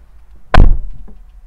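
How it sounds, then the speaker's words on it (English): A single solid thunk as the door of a 2021 Mercedes-AMG E63 S shuts, close and sharp, followed by a faint short knock and quiet cabin. "And I will close the door."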